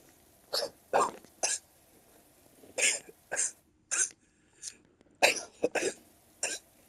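A man's coughs in a quiet late-night gaming session, about a dozen short, sharp bursts in uneven clusters, close to the microphone with no talk.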